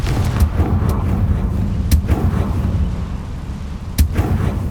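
The Confringo fire spell in Hogwarts Legacy bursts in two sharp explosive cracks about two seconds apart, set over a low rumbling game ambience with no speech.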